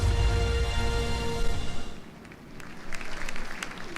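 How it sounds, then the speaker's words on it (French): Applause from the audience at a 50th-anniversary celebration for the Pathe'O fashion house in Ouagadougou follows testimonies, first over a fading musical tone, then as scattered moderate clapping after it stops. "Merci de les applaudir"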